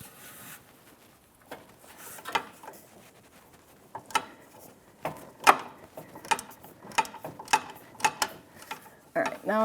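A ratchet and socket work a sway bar bushing bolt free on a 2009-2014 Nissan Maxima, with irregular sharp metallic clicks and clacks that grow denser and louder toward the end over quiet workshop background.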